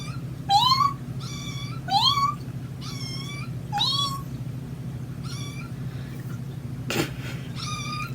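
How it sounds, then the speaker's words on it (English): A kitten meows loudly and repeatedly in short rising cries, close by, over a steady low hum in an indoor room. "We have a kitten screaming."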